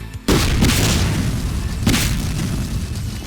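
A loud explosion booms in the video game Quantum Break, with a sharp initial blast followed by a second burst and a long rumbling roar that fills the rest of the moment.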